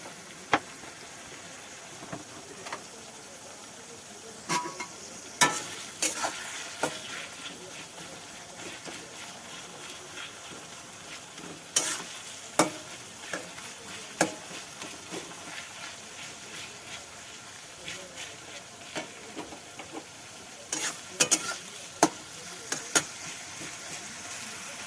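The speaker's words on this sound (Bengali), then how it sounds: "পেঁয়াজটা ভাজা হয়ে গেছে, এবার মশলাটা দেওয়া হচ্ছে" Onions and a ginger, garlic, green chili and tomato paste fry in a pan for meat curry, giving a soft, steady sizzle with scattered crackles and clicks while a person talks quietly.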